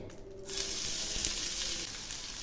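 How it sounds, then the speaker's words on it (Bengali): Chopped onions dropped into hot oil in a pan erupt into a loud, close, continuous sizzle after a brief quiet start, staying steady and hissing to the end with no talking. "এই পেঁয়াজগুলো একটু ভেজে নেব, তাহলে পেঁয়াজের কাঁচা গন্ধটা থাকবে না।"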